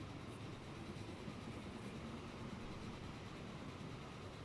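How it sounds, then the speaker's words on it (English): A freight train rumbles overhead in a railway-building video game, heard as a steady, dense low roar with faint rail clatter throughout and no voices. "We did just hear a freight train going over our head."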